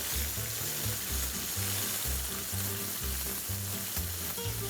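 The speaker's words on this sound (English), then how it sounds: "You hear that sizzle?" Pancetta sizzles steadily in a hot frying pan, a close, continuous crackling hiss with a low hum underneath.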